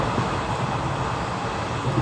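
Interior of a moving overnight train, a steady low rumble and rushing noise with no distinct clacks or voices.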